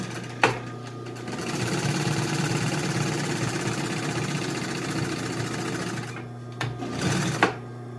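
A sewing machine runs steadily, stitching interior upholstery for a 1955 Chevy two-door post, a continuous close mechanical whir with brief pauses and clicks near the end.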